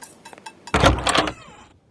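A door opens with a short burst of rattling and scraping, preceded by a few light clicks and knocks, close by and fading out quickly, with no talking.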